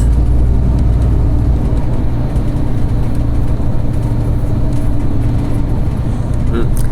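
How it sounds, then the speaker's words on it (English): Cars roar through an enclosed road tunnel, a loud, constant, booming engine and tyre rumble that fills the space without pause. "Racing cars in the tunnel."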